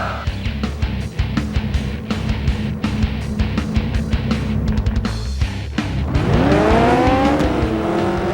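Race cars in a video game suicide race roar close by, with rapid clattering impacts and engine buzz, then a rising, revving whine as one accelerates hard.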